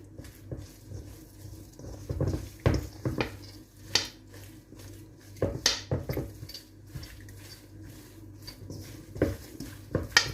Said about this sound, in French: Et je vais mélanger avec les spatules.